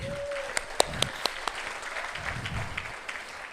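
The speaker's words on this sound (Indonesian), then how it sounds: "Tepuk tangan ya buat Atomy." Scattered applause from an audience at an Atomy marketing plan presentation: a handful of sharp individual claps stand out over a soft room hiss, with a brief steady tone early on.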